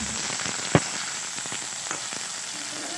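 Cauliflower and potato fry in a pan with a steady close sizzle and a sharp pop, the hiss continuous and fairly quiet throughout.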